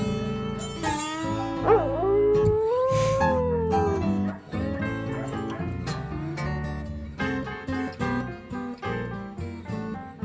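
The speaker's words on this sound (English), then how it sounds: "did they modify the dog's howls to fit their playing?" A dog howls along with the music on an album, with long rising and falling wails over guitar and keyboard chords, loud and close.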